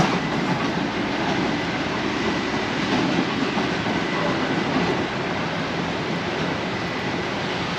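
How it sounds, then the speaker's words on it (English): A train rumbles past close by at Playa de Palma, Mallorca, a steady dense roar of wheels on rails with faint rhythmic clatter, no voices. "There's the train and there's nobody on it now."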